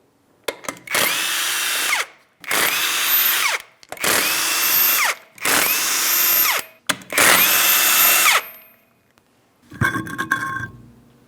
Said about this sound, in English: we're going to remove all 5 of our 21mm lug nuts and the wheel